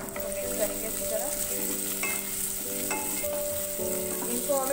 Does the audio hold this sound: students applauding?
no